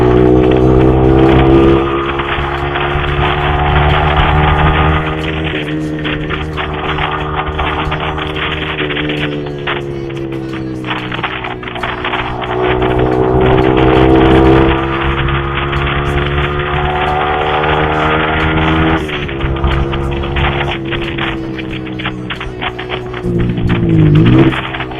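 A Yamaha R15 V3 motorcycle fitted with an R9 Misano aftermarket exhaust revs repeatedly, its loud engine note climbing and falling in several long sweeps, close up with no talking.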